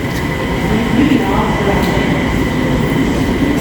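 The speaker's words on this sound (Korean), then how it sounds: "이는 경전철이죠." A Busan Metro Line 4 light rail train rumbles steadily from inside the carriage. A continuous low roar of running gear carries a faint overlay of rail noise.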